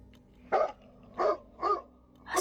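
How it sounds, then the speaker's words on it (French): Three sharp dog barks in a forest, spaced about half a second apart, fairly close and loud, with a fourth starting at the end and no talking. "brusquement, j'ai entendu un aboiement derrière moi"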